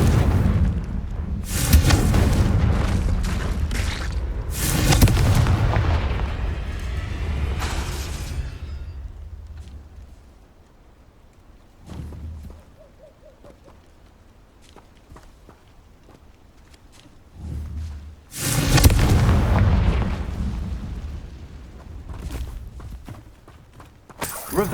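Confringo fire-blast spell explosions in the video game Hogwarts Legacy: several loud, booming bursts in clusters with rumbling tails, separated by quieter stretches of footsteps and faint game ambience.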